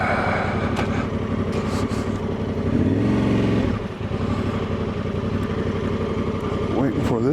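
A 2024 Honda Transalp motorcycle with a freshly flashed ECU pulls out of a parking lot, its steady engine drone running close and continuous, swelling briefly as it revs, with a rider talking over it.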